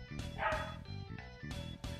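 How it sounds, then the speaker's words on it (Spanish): Dog barking in repeated bursts, a few sharp woofs spaced across two seconds, fairly close and loud with no talk over it. "Y mi perro sigue chingando,"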